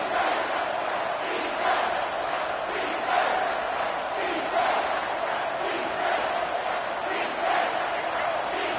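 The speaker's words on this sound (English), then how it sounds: "Big 3rd down as the crowd gets behind this defense." Stadium crowd in a Madden football game on a big third down late in the game, a loud continuous roar of cheering with rising and falling swells, heard without any talking.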